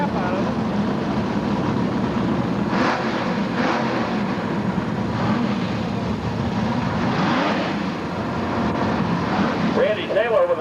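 An H-Stock automatic drag racing car roars through a burnout at a Gainesville NHRA event, a loud sustained engine and tire roar heard at a distance, with an announcer talking over it.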